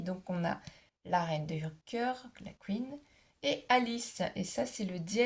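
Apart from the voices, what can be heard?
No distinct noise like a dog, phone or traffic.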